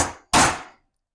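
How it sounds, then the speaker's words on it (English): A hammer strikes a center punch on metal: a single sharp metallic strike, loud and close, preceded by the fading ring of an earlier hit, then quiet. "So I'll just center punch this one"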